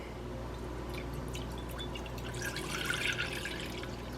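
Canned broth pours steadily into a pan on medium heat, a soft continuous splashing that swells briefly toward the end, over a low background hum.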